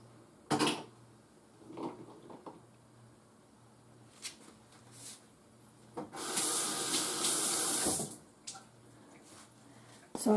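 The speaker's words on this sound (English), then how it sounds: "Because these are Pintos, I'm going to drain the water." Water drains from a jar of pressure-canned pinto beans, heard mostly as one splashing pour of about two seconds near the end, framed by soft clinks and handling noises at close range.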